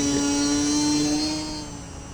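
A radio-controlled model airplane on a windy morning gives off a steady high electric motor whine with a strong constant tone, loud and close at first, then slowly fading as it flies away.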